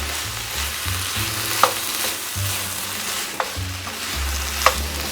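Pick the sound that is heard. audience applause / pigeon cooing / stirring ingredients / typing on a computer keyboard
stirring ingredients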